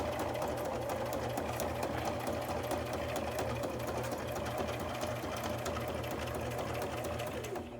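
A sewing machine runs continuously at a fast, even pace, its rapid needle clatter and motor hum close and steady with no talk.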